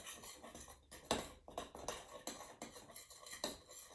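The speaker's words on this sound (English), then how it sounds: "we're going to stir this together to make sure all of this stuff is mixed" A utensil stirs ingredients in a mixing bowl, giving repeated close clinks and scraping swishes in an uneven rhythm, fairly quiet and with no talk.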